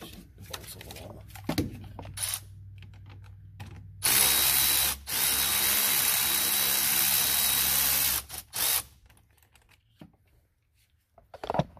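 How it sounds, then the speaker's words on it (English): A ratchet wrench works band clamp bolts loose on an injection pump swap on a 2001 Cummins 24-valve diesel, giving loud, steady bursts of ratcheting clicks with brief knocks and quiet gaps between them, close to the tool. "One thing I do not like about these ratchets is they don't, on these band clamps, they don't break it loose as easy."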